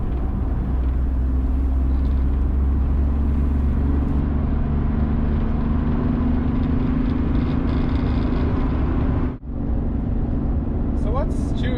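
A 1992 Daihatsu Charade with a 1-litre turbo diesel cruising at speed in fifth gear, steady droning engine and road rumble heard from inside the cabin, with a voice talking over it throughout.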